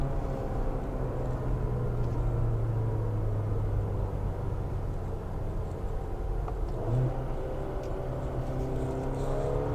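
A 2024 Mercedes GLA 250 compact luxury SUV accelerating in manual mode, its engine giving a steady, continuous drone as heard from inside the cabin, with no talk.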